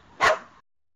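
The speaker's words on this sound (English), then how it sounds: "there's our dog barking." A single AI-generated dog bark from the AudioGen text-to-audio model, loud and close, short and sharp, ending abruptly into silence.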